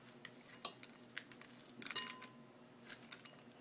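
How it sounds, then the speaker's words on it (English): A spoon scrapes and clinks against the inside of a halved butternut squash as the seeds are scooped out, producing faint, irregular close-up taps and scrapes in a quiet kitchen. "We're going to scoop out the seeds again."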